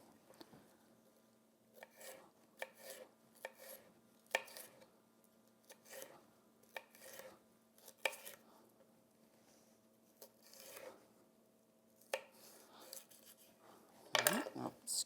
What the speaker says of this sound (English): just gently cut the white part out